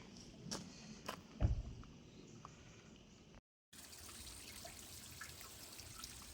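Hot spring water at about 38 degrees flowing from the ground in Tuscany in a soft, steady trickle, with a few faint drips near the start; the sound briefly cuts out partway through.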